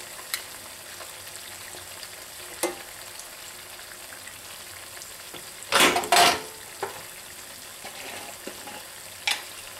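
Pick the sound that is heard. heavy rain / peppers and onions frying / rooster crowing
peppers and onions frying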